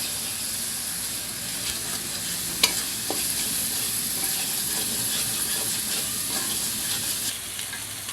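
Spices with turmeric and dry chili powder fry in oil for a crab curry, giving a constant close sizzle and hiss with occasional sharp clinks and scrapes of a stirring utensil.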